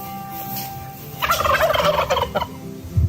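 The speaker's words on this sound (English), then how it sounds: "There's 1 turkey." Turkeys on a farm gobble in a rapid, rattling burst, close and loud, with a second shorter call near the end over light background noise.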